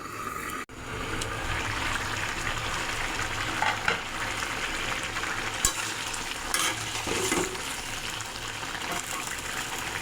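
Fried fish going into a pan of simmering fish curry, a steady close sizzle and bubbling with a sharp clatter near the start and a few brief scrapes, no voices.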